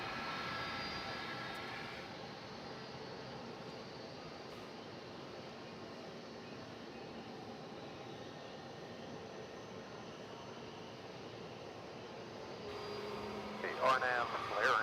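An American Airlines jet departs DFW Airport at night with a faint, distant, steady engine roar that holds throughout, and a few brief sharper sounds come near the end.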